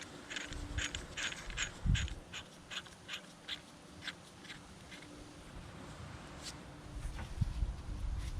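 A bolt on a Mazda rear brake caliper is tightened during a rear rotor and pad job, giving a run of close, rhythmic ratcheting clicks with a few heavier knocks and no speech.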